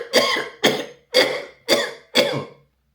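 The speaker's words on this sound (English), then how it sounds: "breathe in deeply through your nostrils and cough vigorously like this" Five deliberate, vigorous coughs from one person, each a sharp burst that trails off, spaced about half a second apart, close and loud with no talking.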